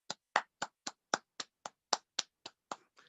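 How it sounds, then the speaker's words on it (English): Applause from a small audience after a children's storytelling session, about a dozen sharp, evenly spaced claps heard close and alone, fading out at the end. "can we have one more round of applause for Carolyn Emmerson and friends?"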